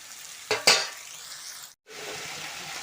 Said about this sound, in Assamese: ভালদৰে ভাজি লওঁ মাংসখিনি